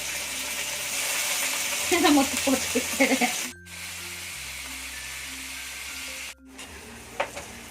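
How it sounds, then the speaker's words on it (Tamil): Paneer frying in hot oil in a pan for paneer biryani, a steady close hiss with a brief burst of crackling and a few spatula clicks, with faint voices in the background. "ஸோ நம்ம வந்து பேனில் எண்ணெய் ஊற்றியாச்சு. இப்போ பன்னீர் போட்டுடலாம்."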